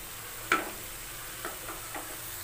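Green chillies sautéed with salt and turmeric in a pan: a faint, steady low sizzle broken by a few light spatula taps and stirs.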